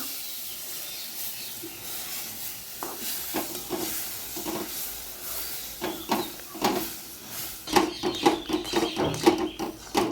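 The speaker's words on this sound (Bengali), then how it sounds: "চলে গেল বন্ধুরা কড়াইয়ের মধ্যে দুধ" Milk poured into a hot kadai while making peda with besan and maida gives a soft hiss at first, then grows into bubbling, sizzling pops and stirring scrapes that get louder and busier toward the end.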